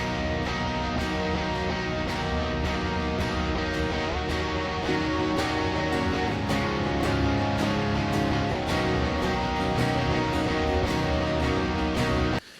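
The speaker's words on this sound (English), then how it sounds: "And the distortion parts then with the strumming would sound like this." Heavily distorted guitar strumming, layered with extra distortion, forms a dense, continuous wall of sound with steady rhythmic strokes at an even level, stopping abruptly at the end with no voices.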